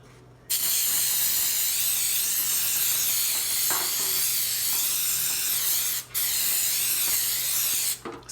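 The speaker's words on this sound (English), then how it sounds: "I'm going to spray the pan with a little cooking spray, some coconut cooking spray." Coconut cooking spray hisses onto a baking pan in one long, steady, close burst lasting several seconds, with a couple of brief breaks near the end.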